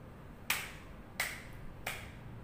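Three crisp hand claps from children, evenly spaced about a beat apart, sharp and fairly close with a short decay after each.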